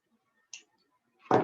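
Jewelry wire snipped with small clippers, a single sharp metallic click followed by a louder handling rustle, close and otherwise quiet.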